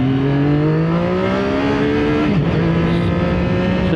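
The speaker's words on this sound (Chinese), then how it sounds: "1档给油走，它的这个发动机制动效果还是很明显的" A CFMOTO 675SR motorcycle engine pulls hard in low gear, its close, loud tone rising steadily before dropping sharply as the throttle closes, then settling into a lower drone.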